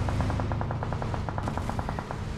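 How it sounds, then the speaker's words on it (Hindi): Rapid bursts of gunfire strike a buggy in a shooting video game, a steady run of evenly spaced impacts over a low rumbling vehicle engine, loud and close without a break. "मेरे बग्गी पे शॉट्स आ गए"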